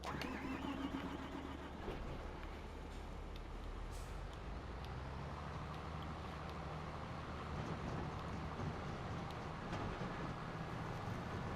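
A tractor engine in Farming Simulator 25 hums steadily at moderate volume through a rice harvest session, alone with no talk.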